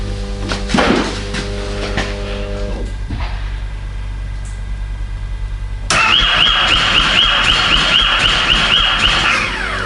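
An engine on a vehicle left standing all summer, in a Yakutia ice-fishing setting, cranks and catches, then runs loudly and steadily with a whining tone, after an earlier idle and starter attempts.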